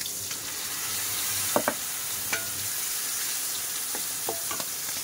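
Ground spice masala is stirred into well-fried onions in a pan, giving a soft continuous sizzle broken by a few sharp scraping clicks from the spoon.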